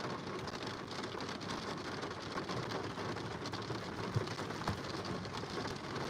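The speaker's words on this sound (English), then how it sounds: "It's really raining." Heavy rain pouring down outdoors, a dense continuous hiss of drops that stays loud and even throughout with no voices over it.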